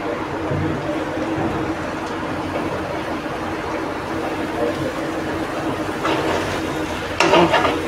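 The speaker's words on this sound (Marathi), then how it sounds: "मसाला चांगला परतून घेऊ. यामध्ये थोडीशी कोथिंबीर पण टाकूया." Masala sizzling in a pan as it is stirred with a little coriander, ahead of adding liver pieces, a steady close frying crackle with scraping strokes and a brief louder stir near the end.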